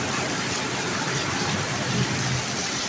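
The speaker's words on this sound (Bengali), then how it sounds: "প্রচুর বৃষ্টি, মুষলধারে বৃষ্টির সাথে বজ্রপাত" Heavy rain pours in a thunderstorm, a dense, steady roar of downpour filling the whole stretch with no distinct thunderclap.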